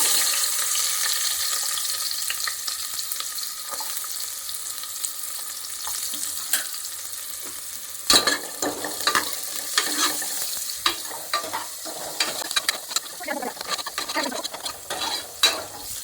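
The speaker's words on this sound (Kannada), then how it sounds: "ನೋಡಿ, ಈರುಳ್ಳಿ ಹಾಕೋತಾ ಇದ್ದೀನಿ." Hot oil hisses steadily until chopped onions are tipped in halfway through, bringing a sudden louder crackle, then irregular stirring scrapes and sizzling, with no speech.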